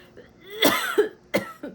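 A woman coughs a few times in short, close bursts with a throat-clearing edge, two main clusters separated by a brief pause, indoors.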